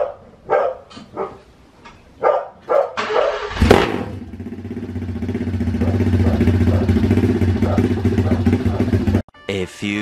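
A WSK 125 motorcycle, revived after ten years stored in a shed, starts and settles into a steady idle with a rattle in an exhaust lacking packing, after several loud dog barks at the start and a brief cut near the end.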